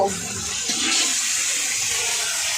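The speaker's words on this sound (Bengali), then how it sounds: "সামান্য একটু জল দিব" Water pours steadily into a pan of dried red chilli paste being cooked for a wedding feast, a close, bright rushing hiss that carries on without a break and without any talk.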